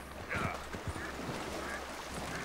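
A horse's hooves clomp and splash through shallow water in Red Dead Redemption 2, a few heavy thuds over steady ambient game noise.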